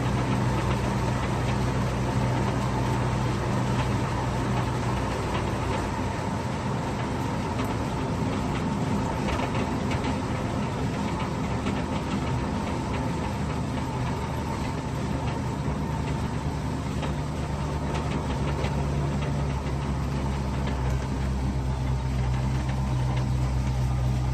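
A custom 1953 Chevy pickup engine pulls in second gear on a cold, damp road, a steady loud mechanical drone and rumble that holds level throughout with no talking.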